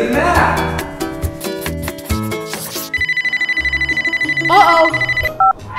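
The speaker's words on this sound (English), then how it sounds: "Whose phone is that?" A phone rings in a classroom, its trilling electronic ringtone pulsing rapidly in the middle of the clip after a stretch of music and cartoon voices, with more voices and short chirps near the end.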